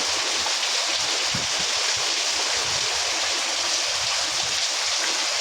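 Winter rain pours steadily, a dense, even hiss of drops with no pauses, loud and close throughout.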